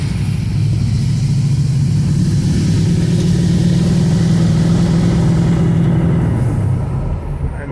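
A truck's heavy engine runs loud and steady with a deep low rumble, holding continuous throughout before easing slightly near the end.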